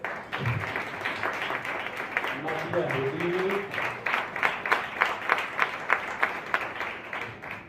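Audience applause at a book presentation, a steady wash of clapping that builds into sharper, rhythmic claps toward the end, with a voice speaking over the start.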